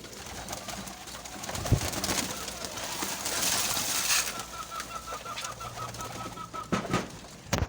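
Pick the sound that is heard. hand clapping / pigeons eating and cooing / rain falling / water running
pigeons eating and cooing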